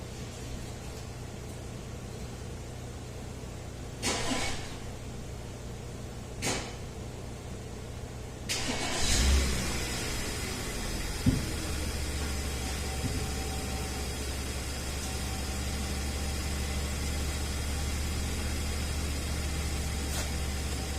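A 2010 Audi Q5 engine, just refitted with fuel injectors, cranks over with a few clicks and then catches into a steady low idle that runs continuously, close by and moderately loud.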